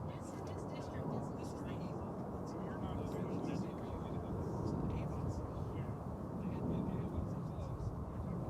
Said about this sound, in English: from Mexico City, just touching down. It's a 737-800.